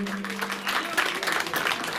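A crowd applauds at a road inauguration ceremony in Chamba where a youth Congress vice president is being honoured. Dense, even clapping runs throughout, with a low hum underneath.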